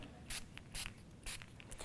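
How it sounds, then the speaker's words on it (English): Short bursts of Heidi Swapp Color Shine mint green spray paint hiss out in four quick puffs, close and fairly quiet, with brief pauses between each spray. "I'm going to actually spray the bottom of this project with the original mint green color"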